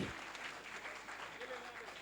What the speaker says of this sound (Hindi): एक बार तालियों के साथ फिरोज भाई का स्वागत कीजिए